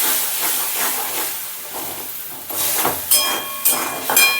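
Spiced masala paste hisses and sputters loudly in a pan just after water is added, with bursts of steamy crackle growing stronger toward the end.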